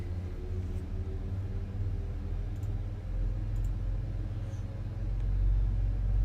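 Airliner engine spool-up in Microsoft Flight Simulator 2024, Air New Zealand flight at Auckland: a low steady rumble that gradually builds, with faint clicks on top and no talk.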